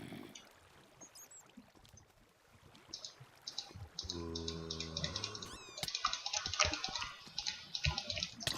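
A flowing water source in Minecraft, rushing in a steady splashing stream that grows louder partway through, with clicky block sounds and brief tones over it.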